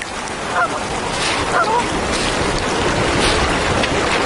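Canada geese honk a few times at a moderate distance on the tundra against a steady rush of wind or surf, the calls brief and scattered over the first couple of seconds.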